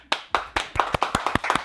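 Several people clap their hands in a short burst of about a dozen sharp, close claps. The rhythm is quick and slightly uneven, and no voices are heard.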